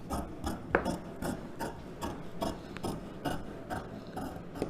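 Scissors cut through silk cotton blouse fabric in a steady rhythm of close, rasping snips, about two per second, with no talking.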